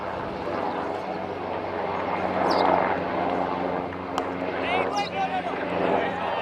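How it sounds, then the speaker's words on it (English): A fixed-wing airplane passes overhead near the airport in Malta during a T20 cricket match, a low, broad engine drone swelling gently while commentators talk over it. "So you can hear the aircraft going overhead."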